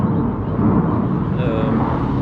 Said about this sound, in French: il y a un avion qui passe au loin